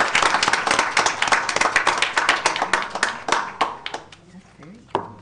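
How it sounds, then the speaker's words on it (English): Clapping at a board of education meeting as a student is honored, many distinct hand claps in a brisk rhythm that gradually tapers into scattered claps and a final lone clap. "Give him a round of applause."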